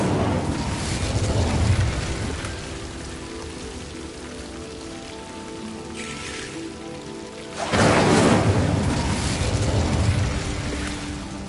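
Two casts of the Incendio fire spell in the wizarding game Hogwarts Legacy each burst in as a loud, crackling, hissing whoosh of flame, one at the start and a stronger one later. Between them comes a quieter stretch of tonal game ambience.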